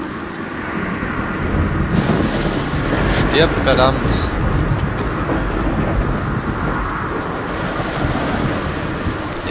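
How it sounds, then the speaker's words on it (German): Steady rain and rolling thunder from a thunderstorm in the video game Godus, a dense continuous roar with rumbling low swells, while a man exclaims over it partway through. "Oh, das fängt wieder an zu gewittern."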